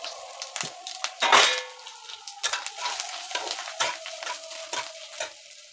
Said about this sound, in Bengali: দিয়ে দেবো নারকেলগুলো, এখন একটু ভেজে দিচ্ছি